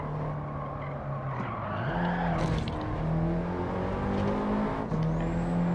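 An Alpine A110 or FL5 Honda Civic Type R in a racing video game skids under handbrake, producing loud, close tire squeal and a sliding screech over a steady, revving engine drone that shifts pitch as the car rotates.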